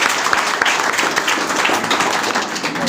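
An audience claps in sustained applause, a dense, steady patter of many hands that holds at an even level throughout, with no voices standing out above it.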